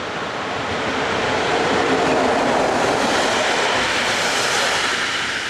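An ex-Deutsche Reichsbahn DR Class 143 electric locomotive hauls a train past at Rüdesheim, a steady loud rushing roar of wheels and motors that stays close and even throughout.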